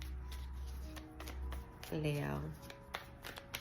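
Tarot cards are riffled and shuffled in quick, close crisp bursts, with someone speaking softly around them.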